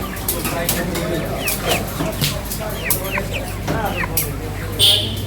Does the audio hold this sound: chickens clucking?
yes